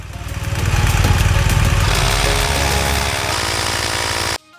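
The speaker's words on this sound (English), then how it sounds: "Connect your compressor, turn on your bike, turn on the compressor," Portable tire compressor running beside an idling BMW 1200GS motorcycle, a loud steady buzzing drone with a mechanical whine that holds for about four seconds, then cuts off abruptly.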